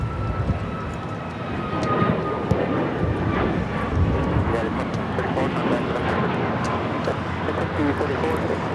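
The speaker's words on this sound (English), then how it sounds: "2234 taking off to San Francisco on the MAX 9." A United Airlines Boeing 737 MAX 9 bound for San Francisco takes off at LAX, a steady, moderately loud jet rumble with a faint whine on top, under people talking.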